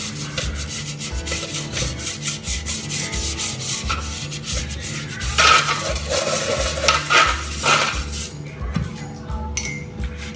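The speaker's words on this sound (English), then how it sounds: "I'm going to use this baking brush to try and make sure that I'm reaching every corner of the baking pan." A baking brush rubs and scrapes steadily over a cake pan being greased for red velvet cake, a close, continuous bristly scrubbing with a few light metallic clinks, fading near the end.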